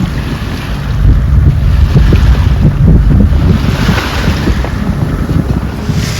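A sailboat under way at sea near St. Vincent in the Caribbean, steady loud wind buffeting the microphone over rushing water and waves along the hull, with no voices.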